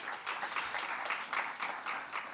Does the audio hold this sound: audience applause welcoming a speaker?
yes